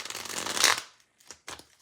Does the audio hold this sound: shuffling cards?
yes